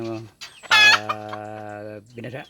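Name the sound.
hen clucking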